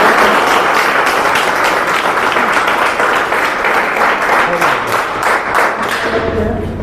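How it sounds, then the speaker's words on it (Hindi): Students in a school classroom applaud loudly and continuously, a dense, close roar of clapping hands that holds strong throughout, with a faint voice emerging near the end. "थोड़ा सा आप लोग जोरदार ताली बजाइए।"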